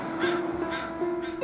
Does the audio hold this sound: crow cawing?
yes